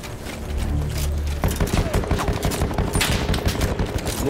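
Rapid bursts of automatic gunfire in a First World War video game set on the Gallipoli front crackle continuously, loud and close, with a low rumble underneath.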